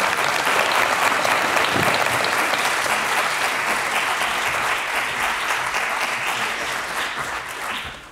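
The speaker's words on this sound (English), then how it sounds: "But please give a warm round of applause to Robbie George." A lecture-hall audience at a university gives a warm round of applause for an invited speaker, loud and steady dense clapping that fills the room and tapers slightly at the end, with no talking over it.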